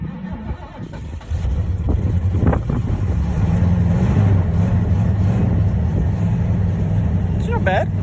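An old International truck engine, just dragged out and fired up without a choke, runs rough and uneven as if missing on a cylinder, a steady low rumble close by with a voice speaking briefly near the end.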